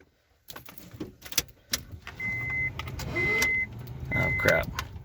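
A worn starter on a turbocharged Honda Accord cranks the engine in short bursts with whining motor tones, and the engine then catches, heard close amid clicks and rattles.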